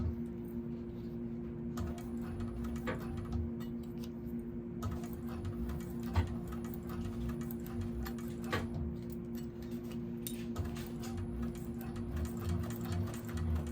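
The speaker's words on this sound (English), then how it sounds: "I'm going to sew the seam allowance that says in the pattern using my narrow foot, back stitching from end to end." A 1341 cylinder arm sewing machine fitted with a narrow foot stitches a vinyl bag seam end to end, giving a continuous close mechanical hum with rapid ticking needle strokes and short breaks in the run.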